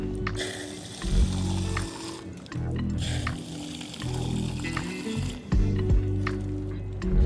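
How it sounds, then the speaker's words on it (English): Water poured into plant pots that have no drainage holes, filling them about halfway for carnivorous plants, with steady splashing and trickling up close in several pours separated by short pauses. "So I'm gonna put a little water"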